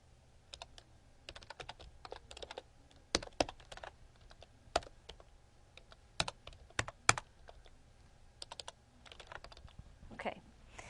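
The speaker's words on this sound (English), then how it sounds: "I obviously cannot type and talk today at the same time" Keys clack in uneven bursts on a computer keyboard, with separate clicks and short flurries spread through the stretch, fairly close and fairly quiet, no voice over them.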